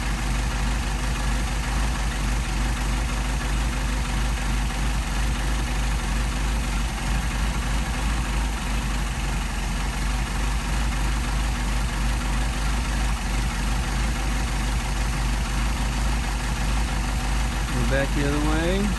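Car engine with a Solex carburetor idling steadily during carburetor adjustment, a continuous close, even rumble from start to finish, with a brief rise near the end.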